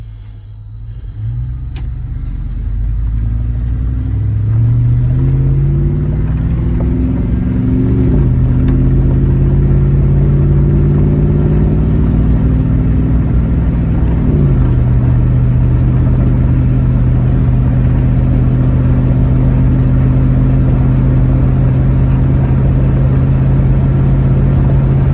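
A car accelerates along a road, its engine rumbling loud and close, the pitch climbing through gear changes before settling into a steady cruising drone; no talk.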